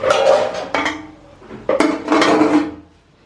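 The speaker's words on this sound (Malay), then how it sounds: "Kita sambung membasuh pinggan." Dishes and plates being washed in a village home kitchen, with ceramic and metal clinking and clattering in repeated close, fairly loud knocks and scrapes and no talk.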